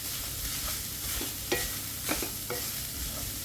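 Spoon scraping and stirring paratha masala in a pan over a steady soft sizzle, a few close clinks and scrapes standing out from the frying hiss.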